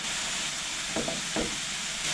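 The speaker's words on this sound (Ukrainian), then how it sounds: "Морква смажиться швидко, буквально 2 хвилинки, і готово" Carrots and sliced champignon mushrooms frying in a pan, a steady soft sizzle and hiss with a couple of brief scraping stirs midway, quiet and close with no talking.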